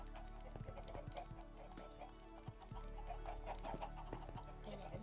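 Minecraft chickens clucking in short, repeated bursts, soft and close, layered over a quiet in-game ambience with no talking.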